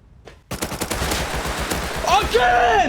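Rapid automatic AK and MP5 gunfire in the Rust video game bursts out after a brief quiet start, a dense close stream of shots, joined near the end by a higher whining tone.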